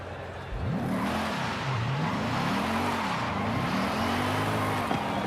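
A car engine in the racing game Forza Horizon 5 burbles and revs steadily, its pitch rising and falling in repeated sweeps as it accelerates and shifts gears, loud and continuous throughout.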